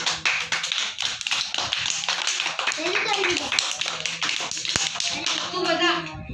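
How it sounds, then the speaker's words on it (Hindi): Children clapping their hands in a classroom during an animal-name learning activity, a dense run of quick claps under continuous children's chatter and teacher talk. "चलो ताली बजाओ।"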